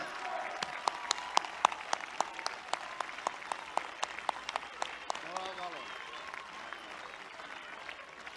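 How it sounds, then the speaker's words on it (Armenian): Scattered claps from an audience at a Gyumri election rally ring out sharply and fairly quietly, thinning into sparse applause while a voice speaks over the latter part. "Ծափահարությունները"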